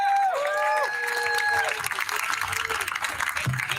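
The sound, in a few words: audience applause for speaker Dan Cohen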